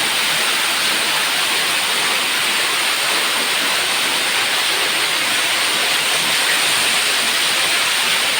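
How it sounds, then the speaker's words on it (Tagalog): Continuous rushing water flowing in a swimming pool, a dense steady hiss like a strong flow or small waterfall, loud and unbroken throughout. "Ang ganda ng agos ng tubig."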